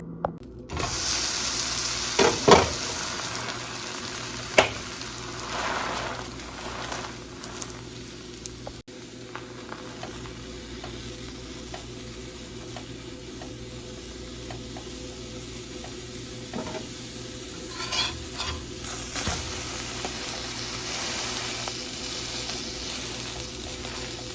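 A low, continuous sizzle from a hot griddle, with occasional soft pats and scrapes as a buttered flatbread roasts.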